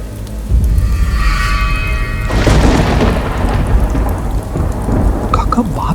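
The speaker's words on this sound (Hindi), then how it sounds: "ये बरसात, अरे बारिश हो रही है। ये वही भयानक बरसात की रात है।" Heavy rain pours in a forest at night while thunder rumbles and cracks, the downpour loud and steady throughout, with a big roll of thunder swelling near the middle.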